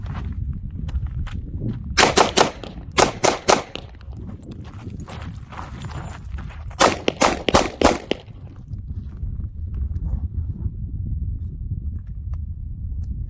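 Gunfire as rounds are shot during practice: two quick bursts of three or four sharp, loud reports each, several seconds apart, over steady outdoor background noise.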